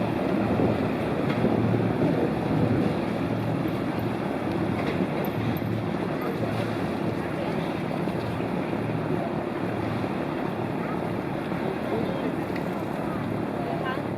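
Tour boat cruising a Copenhagen canal that passes under many low bridges, with a steady broad rumble of engine, water and wind noise lasting throughout, loud and close.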